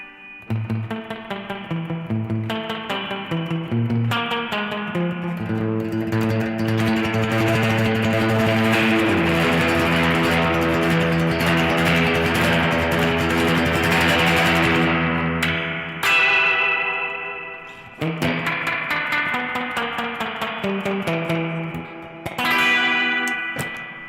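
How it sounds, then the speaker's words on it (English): An electric guitar played through an old spring reverb alongside a hollow-sided Telecaster-style guitar, picking melodic phrases and ringing chords with a washy, echoing tail that swells into a dense sustained wash before dropping out and resuming with bright, reverberant notes. "I've got my old spring reverb there as well."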